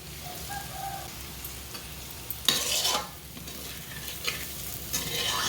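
Boiled egg pieces frying in a pan with salt and chilli powder sizzle steadily up close while being gently stirred, with a few louder scraping bursts over the constant fry.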